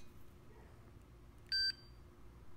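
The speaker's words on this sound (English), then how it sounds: "And in this direction, we have an audible beep, and we see that it's closed." A digital multimeter gives a short, clean electronic beep during a diode test on a Yamaha V-Star 1100 ignition, one brief tone in an otherwise quiet room.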